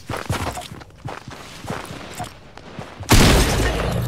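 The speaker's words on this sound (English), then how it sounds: "Don't worry, I'm gonna shoot you." Gunshots in a video game crack in a series of sharp bursts with footstep-like taps, ending in a loud sustained blast.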